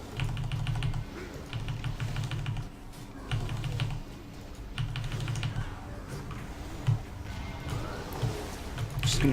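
Bursts of fast keystrokes on a 6G V2 computer keyboard alternate with brief pauses, close-miked over a constant low hum, with a few louder isolated key taps near the end.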